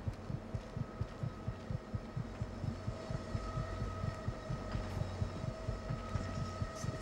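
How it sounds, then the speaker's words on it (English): Heartbeat sound effect from the God of War video game, a steady thumping pulse of paired low beats repeating throughout, set over a constant hum with no talk. "The heartbeat isn't in the same exact spot as your footsteps."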